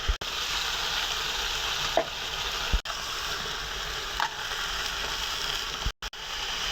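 Bottle gourd and green chillies, with turmeric, cook in a hot pan, a loud constant sizzle broken by a few spatula knocks and scrapes and brief near-silent gaps, with nobody speaking.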